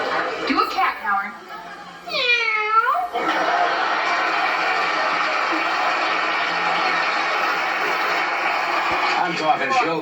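A man imitates a cat, voicing wavering, rising and falling meow-like yowls before a steady wash of crowd laughter and noise swells and holds.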